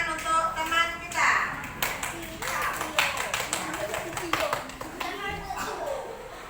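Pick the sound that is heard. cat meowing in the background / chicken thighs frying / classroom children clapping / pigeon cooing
classroom children clapping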